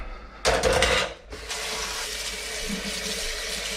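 A kitchen sink tap sprays water hard against a sieve, a loud rushing burst that cuts off briefly, then a steadier running stream with faint clatter underneath.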